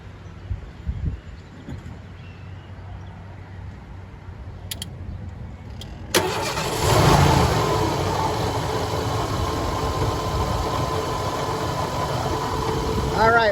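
A 1988 Ford engine cranks and fires after a quiet stretch with a few faint clicks, then settles into a steady, rumbling idle close by, while people talk intermittently.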